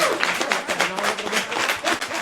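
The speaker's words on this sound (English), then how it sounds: "Please give a round of applause for Michelle R. Smith" An audience applauds to honour a guest at a celebration of Toni Morrison and notable Black figures, giving a dense, steady patter of many hands clapping for a couple of seconds, with a faint murmur of voices underneath.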